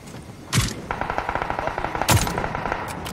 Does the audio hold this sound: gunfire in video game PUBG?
yes